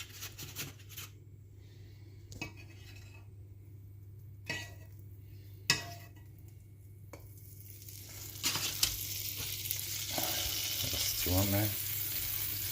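Butter melting in a hot crepe pan gives a soft, steady sizzle that builds and brightens toward the end, with a few clacks of kitchen utensils early on.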